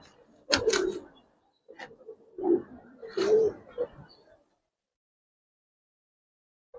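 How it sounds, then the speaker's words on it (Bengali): Flying pigeons of the giribaz and racer kind give a few low cooing calls in separate bursts, close by, followed by quiet. "এগুলো উড়ানো কবুতর।"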